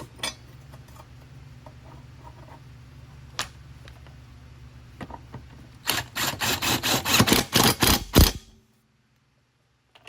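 Metal lawn mower blade clanking and rattling back onto a Yard Machines mower after sharpening, a scattering of light knocks followed by a loud run of rapid metallic impacts near the end, then sudden quiet.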